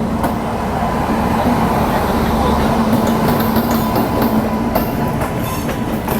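A Sampark Kranti Express train rolling into Ratlam Junction at night, a steady loud rumble with rhythmic wheel clatter heard from on board.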